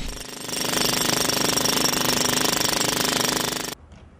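A jackhammer pounds during city road repair works in Cherkasy, a loud, dense, continuous rattle close by that runs for several seconds before cutting off abruptly.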